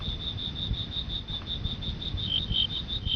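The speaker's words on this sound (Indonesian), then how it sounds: "Suara jangkrik menggema dari balik semak" Crickets chirp in a steady, rapid pulsing trill, high-pitched and constant, over a quiet night background at the edge of the Amazon forest.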